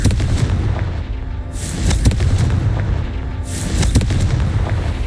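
Confringo fire spell blasts in the Hogwarts Legacy video game, played on Xbox Series X: loud booming bursts repeating roughly every two seconds, each with a sharp crackling attack over a constant low rumble.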